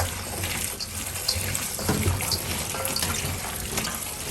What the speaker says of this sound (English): So we're going to give them a quick rinse.